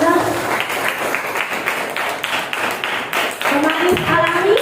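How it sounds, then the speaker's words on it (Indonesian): Classroom applause from students during a teaching practice lesson, a steady patter of many hands clapping, fairly close, with a voice speaking over it. "Berikan aplaus untuk semua."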